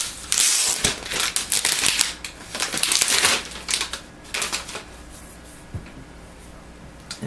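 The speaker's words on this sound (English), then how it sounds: "So let me go and take off this plastic here." Crinkly crackling of protective plastic film being peeled and crumpled off a new black 16 GB Wi-Fi iPad, close and busy in rapid bursts, easing off into sparser rustles toward the end.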